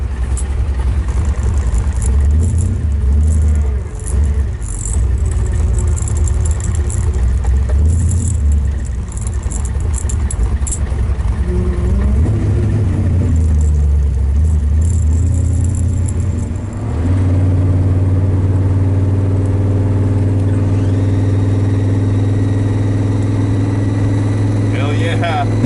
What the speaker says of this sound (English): Listen to that blower whine.